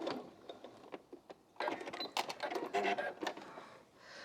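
A sewing machine stitches scrap fabric onto a quilt block, starting with a few short taps and then whirring in a quick, busy run before easing off, fairly quiet and close.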